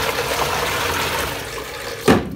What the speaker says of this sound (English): So this way, hair gets clean, and then just rinse it in a clean water.